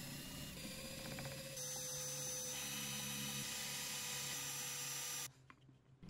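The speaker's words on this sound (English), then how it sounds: "Pre-drill your holes." A power drill pre-drilling holes in wood whines steadily, its pitch shifting as it bites and changes speed, then cuts off abruptly near the end, leaving quiet.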